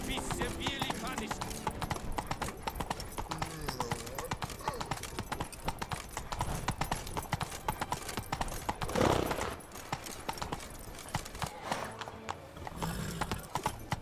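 Horse hooves clip-clop steadily in The Witcher 3: Blood and Wine, an ongoing rhythmic trot under festival ambience, with voices talking over it and a horse whinny near the middle.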